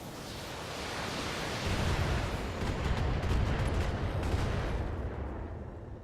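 Mech weapons firing in the BattleTech video game, a dense roaring blast of noise that swells and rumbles for several seconds like sustained artillery or a missile barrage, with crackling detail near the end and no speech.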